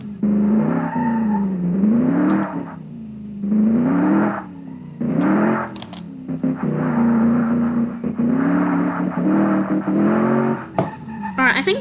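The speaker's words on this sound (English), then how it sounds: "Let's actually drive the car now." A 1990s supercar is driven in BeamNG Drive, its engine revving up and down in repeated surges with tire noise between shifts, while someone talks over it.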